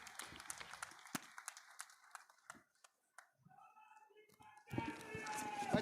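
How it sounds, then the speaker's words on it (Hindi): Crowd applause at a political rally in Loharu, Bhiwani-Mahendragarh, India, rising from scattered clapping into a loud, dense burst near the end, with voices mixed in. "जोर जोर से ताली बजाओ"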